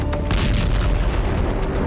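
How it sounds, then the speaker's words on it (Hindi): A heavy explosion at a burning chemical-filled warehouse in Balashikha near Moscow, heard as a loud, continuous rumbling roar with repeated sharp cracks and bursts throughout. "आग की वजह से जोरदार धमाका हुआ"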